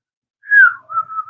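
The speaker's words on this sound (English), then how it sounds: "can I whistle? Yes, I can whistle." A person whistling briefly, two clear close tones, the first sliding downward and the second held steady, with nothing else around them.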